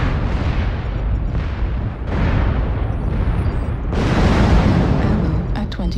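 Incoming missiles explode in MechWarrior Online: a dense run of heavy booms and bursts hits in overlapping waves, loud and close, and swells toward the end.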